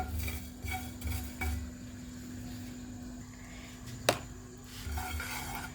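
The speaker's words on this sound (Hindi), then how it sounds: "और ये जो है ना साबुत धनिया, ये मैं इसको रोस्ट कर लूँगी।" Whole coriander seeds dry-roast in a pan, stirred by a utensil that scrapes and clinks against the metal in a few separate strokes, with one sharper knock near the end, all fairly quiet and with no talking.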